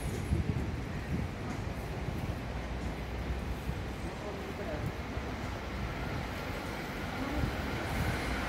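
An E531 series electric commuter train rumbling past through Kanamachi station without stopping, a steady broad roar of wheels and motors filling the whole span.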